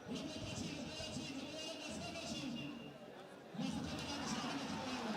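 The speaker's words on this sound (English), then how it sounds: "The crowd are loving the action so far" A crowd at a fight-circuit bout is loud and noisy with chatter, babble and cheering that dips briefly, then swells again, while a voice talks over it.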